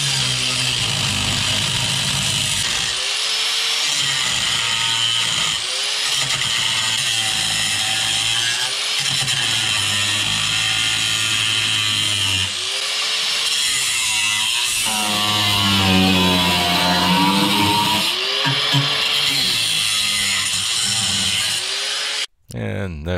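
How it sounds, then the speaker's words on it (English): An angle grinder cuts auto body metal on the rocker panel of a Mercury Sable station wagon, whining in repeated passes with short pauses between cuts, loud and close. "here we are going with our angle grinder and cutting again"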